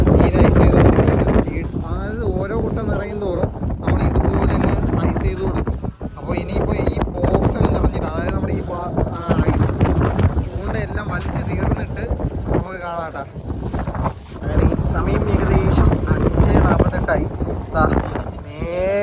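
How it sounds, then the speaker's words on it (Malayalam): Strong wind roars continuously across the microphone on a deep-sea fishing boat, loud and buffeting, with a voice talking intermittently beneath the gusts. "ദാ ഈ നിൽക്കുന്ന കാറ്റുണ്ട്"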